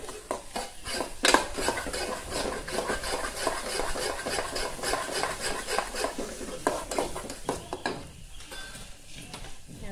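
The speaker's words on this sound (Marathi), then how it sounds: "आपण चांगलं परतून घेऊया" Ground masala paste for a Konkan-style vegetable curry being stirred and sautéed in a pan, rapid repeated scraping and clinking of a spoon against metal over a low sizzle, close by.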